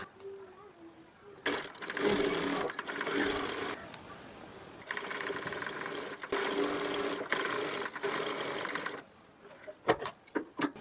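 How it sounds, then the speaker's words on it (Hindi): Sewing machine with a single presser foot stitching alongside a piping cord, running in long bursts of steady, fast whirring separated by short stops, with a few clicks near the end. "तो हमने यहाँ पर इस डोरी की जड़ में सिलाई लगाना है, यानी कि डोरी के बराबर से सिलाई लगाएंगे"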